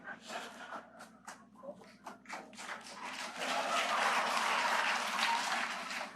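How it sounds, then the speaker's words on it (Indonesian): Women in a church congregation break into applause during a Sunday sermon: scattered claps and shuffling at first, swelling into a fuller, louder round of clapping that holds to the end. "Yang tepuk tangan perempuan semua."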